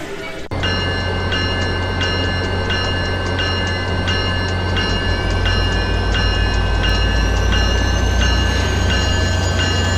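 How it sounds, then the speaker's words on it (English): A passenger train bound for Jasper, Alberta starts up abruptly into a loud, steady rumble, with faint ringing tones repeating at regular intervals throughout. "the train will be leaving soon"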